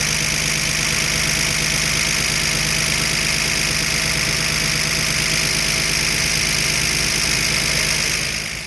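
A 1974 Dodge D100 engine idles steadily and close by, with a continuous mechanical hum and a faint ticking from one noisy valve running through the whole stretch.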